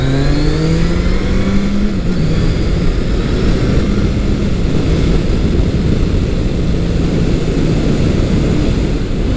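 A Kawasaki ZRX1200R carbureted motorcycle engine revs loud and close, pitch climbing and then settling into a sustained roar, with no talking.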